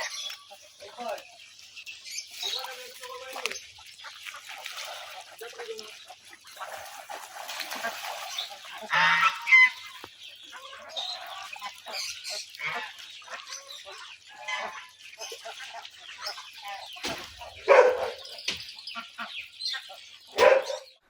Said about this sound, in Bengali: আমাদের হাঁসগুলো সব পুকুরে গোসল করতেছে অনেক সুন্দরভাবে